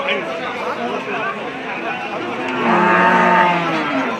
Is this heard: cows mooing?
yes